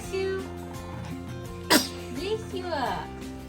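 A single abrupt sneeze bursts out mid-clip, close and loud, amid ongoing murmuring voices in a home setting.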